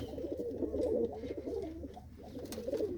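A pigeon gives low, throaty rolling coos close by, two or three phrases running into each other, quiet and steady.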